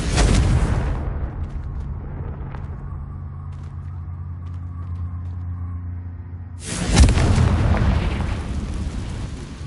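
The Confringo fire spell detonates in the Hogwarts Legacy video game with a loud, broad explosive roar that fades into a quieter stretch, then a second heavy blast erupts and rumbles on.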